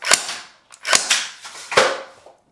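A Surge gel blaster fires three separate single shots, each a sharp close snap with a short decaying hiss, spaced under a second apart, and nobody speaks.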